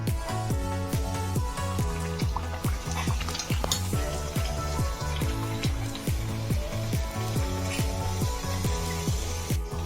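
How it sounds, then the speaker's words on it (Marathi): Thick bedmi puri frying in hot oil, a steady sizzle with stirring and clinks of cookware, repeating in a regular rhythm throughout. "आता आपण तेलात तळून घेऊया."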